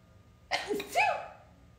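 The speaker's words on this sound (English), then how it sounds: "I'm gonna sneeze, hang on." A single close sneeze, a sharp intake followed by a loud burst, with no talking.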